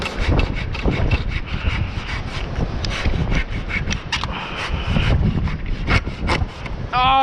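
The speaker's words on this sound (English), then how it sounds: "I'll chainsaw the bloody thing." A chainsaw cuts into a wooden birdhouse on a farm during a storm with strong winds, giving a close, continuous rough rasping with wind buffeting throughout.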